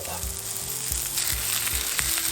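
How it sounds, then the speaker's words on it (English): Onions fry in a hot pan during outdoor cowboy-style campsite cooking, a dense crackling sizzle that holds steady and close, broken by a few soft scraping stirs, with no voices. "once everything is hot, we're going to dunk in the onions"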